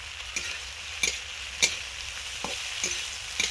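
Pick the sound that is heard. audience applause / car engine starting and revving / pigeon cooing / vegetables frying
vegetables frying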